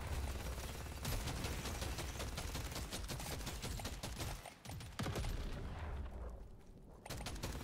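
Rapid automatic gunfire from a weapon mag dumping nonstop in Deep Rock Galactic: Survivor, a dense continuous rattle of shots layered with game effects, with only a few brief dips.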